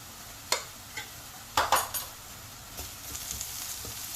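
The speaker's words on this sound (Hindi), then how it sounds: "इस मसालों को मिला लेंगे प्याज में।" Spoon stirring red chilli powder, coriander powder and turmeric into onions frying in a pan for a Sindhi potato curry, giving a few sharp scraping clinks against the pan over a soft sizzle, close and fairly quiet.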